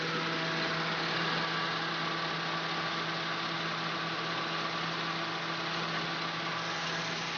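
A 1990 Nissan Sentra engine idles steadily right after starting, a constant close hum with an even low drone and no change in pitch throughout.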